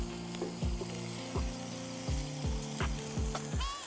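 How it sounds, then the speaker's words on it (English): Salmon pieces frying in a pan, a steady sizzle broken by several clacking thuds as a big knife flips the bits over, close and alone without talk. "I'm just going to flip these bits of salmon over"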